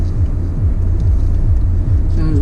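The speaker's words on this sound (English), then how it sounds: "Okay, we're in the car now, and we're going to start by going down into the city" Steady engine rumble and road noise fill the interior of a car driving down into Pagadian City, a continuous low drone with no talk.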